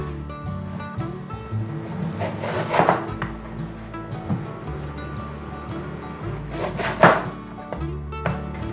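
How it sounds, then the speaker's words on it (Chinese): Seeds and pulp being scraped out of a halved winter melon, a steady close rubbing scrape with a couple of louder strokes, set against a faint hum in a home kitchen. "把冬瓜的种子去掉"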